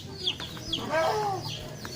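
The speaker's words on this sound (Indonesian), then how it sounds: "Aduh, berisik lagi nih ayam" A chicken clucks nearby in short, repeated bursts, with one longer squawking cluck partway through, and there is no talk.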